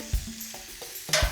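Pork tenderloin grills over a wood fire with a soft, crackling sizzle, faint and close, broken by a few brief pops and light thumps in a short burst.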